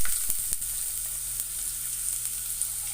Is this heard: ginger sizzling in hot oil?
yes